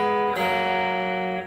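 A short electric guitar riff, with clear sustained chiming notes ringing out over open strings, played alone and close.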